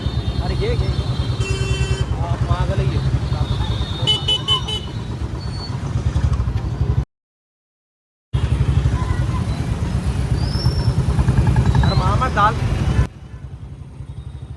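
Heavy road traffic packed with cars and motorcycles: a thick, continuous engine drone with horns tooting now and then and a brief gap midway, while voices murmur in the mix.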